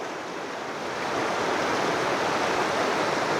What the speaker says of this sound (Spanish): Miren, cómo todo este caudal de agua sale de abajo del hielo